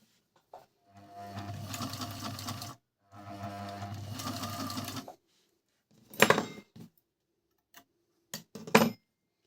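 A four-thread overlock sewing machine runs in two sustained bursts of rapid mechanical whirring and stitching, close and clear, followed by several short sharp clicks and taps with quiet gaps between.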